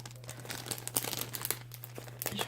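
Picture frames packed in plastic are unwrapped from a parcel, with close, quiet crinkling and rustling in irregular bursts over a faint steady hum.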